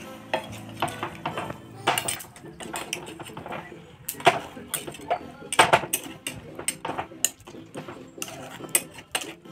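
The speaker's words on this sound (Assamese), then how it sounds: "অকণমান লৰাই দিছোঁ" A spoon stirs curry with fish and added water in a metal pot, giving repeated scraping and clinking strokes in an uneven rhythm. The sound is close and moderately loud, with no talking.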